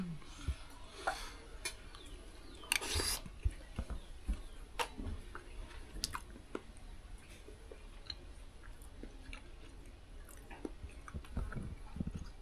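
Someone chews and eats a Fijian vasoso, a sweet banana and coconut dessert, with close, wet chewing and soft crunchy bites repeating throughout, brief sharper clicks scattered in.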